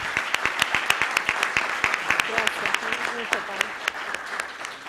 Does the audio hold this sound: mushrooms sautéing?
no